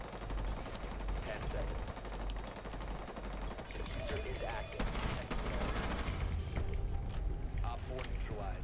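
Rapid gunfire bursts from a Rainbow Six Siege round, loud and dense throughout, with automatic weapon fire and sharp shots layered under a player shouting excitedly.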